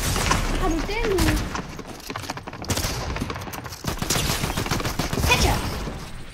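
Rapid bursts of gunfire in the video game Fortnite, dense volleys and repeated shots filling the clip at close range, with voices talking over the shooting.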